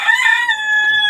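A young Fayoumi rooster crows once in a clear, strained call that fades out after about a second, close by with no talk over it.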